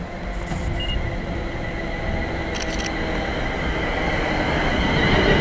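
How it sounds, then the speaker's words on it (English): A fast train runs through platform 4 at Nuneaton station, producing a loud, steady low rumbling roar that builds slightly over several seconds, with a few faint higher squeals and clicks above it. "Got a fast one going through on platform 4 as well."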